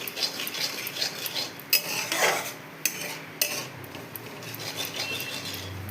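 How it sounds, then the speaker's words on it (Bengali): A utensil stirs and scrapes in a cooking pot of potato and pea curry, with intermittent metallic clinks and knocks against the pot, close and clear, no talking. "এরপর এটাকে একটু নাড়তে হবে।"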